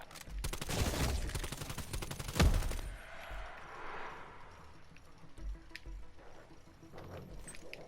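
Rapid automatic fire from a modified AS-VAL rifle in Cold War Zombies crackles in a dense burst for a few seconds, then gives way to quieter scattered shots and game sounds.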